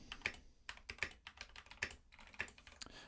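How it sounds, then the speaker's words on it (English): Typing on a computer keyboard while entering a ChatGPT prompt, a close run of quick, irregular key clicks and taps with no voices. "I'm just typing in"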